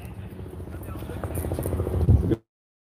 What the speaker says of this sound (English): Got a chopper overhead.